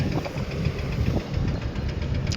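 A tractor engine chugs steadily at close range, a continuous low rumbling idle with no voices.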